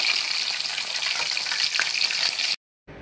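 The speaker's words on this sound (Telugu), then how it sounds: "ఇలా లో టు మీడియం ఫ్లేమ్లోనే ఒక 15 నిమిషాలు బాగా ఫ్రై చేసుకోవాలన్నమాట" KFC-style chicken pieces deep fry in oil over a low-to-medium flame, giving a loud, bright, continuous bubbling sizzle close by. It cuts off abruptly near the end, followed by a brief return of hiss.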